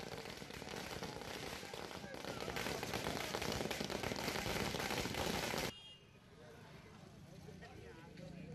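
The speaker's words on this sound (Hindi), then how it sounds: "बीजेपी कार्यकर्ताओं की ओर से घर के बाहर आतिशबाजी की जा रही है" Fireworks set off by BJP party workers outside a house in Kota, Rajasthan, crackle in a dense, loud, rapid barrage that stops abruptly, leaving a quieter crowd murmur behind.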